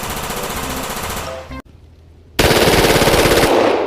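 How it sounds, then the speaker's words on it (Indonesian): A toy Gatling machine gun fires rapid electronic bursts, loud and close, with a rattling run, a brief pause, then another dense burst to the end. "tembakan Gatling machine gun"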